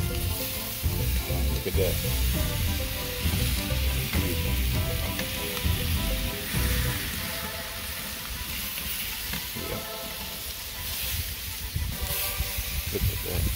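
Thick-cut pork chops sizzle loudly and continuously on a Weber kettle grill, a dense, close hiss lasting throughout, with someone briefly speaking over it.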